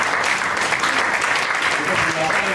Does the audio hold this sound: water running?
no